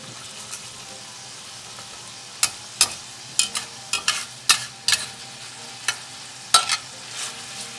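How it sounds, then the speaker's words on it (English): Sausage fries crisp in an All-Clad LTD 5-quart pan, a constant close sizzle broken by a run of sharp scraping stirs and clatters in the middle, with no talking. "So we want to get this sausage fairly crispy."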